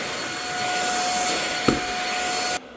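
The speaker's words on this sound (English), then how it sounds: "it's just a really nice vacuum for hardwood tile floors" A handheld stick vacuum cleaner runs on a hardwood floor with a steady whirring whine, close and alone, broken by one brief knock before the motor cuts off near the end.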